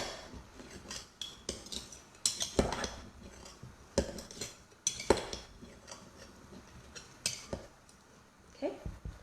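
A spoon stirs a compost mixture in a container, giving soft scraping and clinking taps that come in irregular bursts, faint and close, with brief quiet gaps between strokes.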